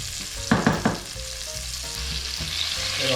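Garlic dropped into a pan of frying onions for a Beninese Dahomey fish stew: a few sharp clacks and stirring knocks early on, then a continuous close sizzle.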